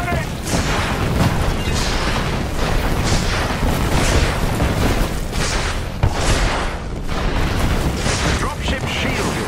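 Continuous barrage of booming artillery explosions in the Avengers video game, dense and loud with overlapping blasts and rumble filling the whole stretch, punctuated by sharper hits.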